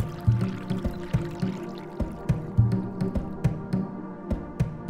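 Water is poured into a pot to be boiled, splashing and gurgling close by in uneven pulses as the stream hits the water already inside, with no one speaking.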